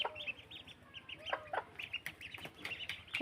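Ducklings near their mother peep in quick, high, scattered bursts while feeding and drinking water, close by and fairly soft, with a few louder calls among them.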